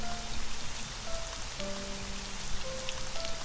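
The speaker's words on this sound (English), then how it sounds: "It's raining." Steady rain patters in the video game One Lonely Night. It is a continuous, even hiss of falling drops, fairly soft, with a few faint sustained musical tones drifting beneath it.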